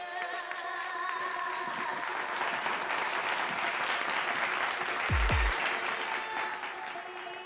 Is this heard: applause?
yes